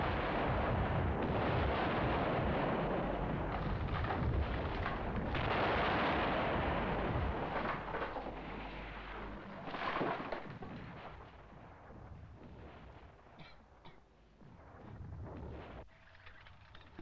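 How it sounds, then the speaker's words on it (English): Heavy artillery fire preceding an enemy attack on a fixed position, a dense continuous barrage of booming blasts and rumbling detonations, loud and sustained, easing somewhat toward the end with scattered further explosions. "an enemy attack on a fixed position will be preceded by heavy concentrations of artillery fire."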